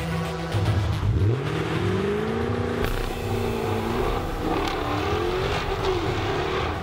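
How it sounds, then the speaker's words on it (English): Mercedes-AMG GT S V8 exhaust in race mode: a loud, deep engine note rising and falling through several revving surges, with a sharp crackle midway, heard close and continuous with no talking. "that exhaust note just goes through the roof to give you the feeling of being in a proper track-prepped sports car"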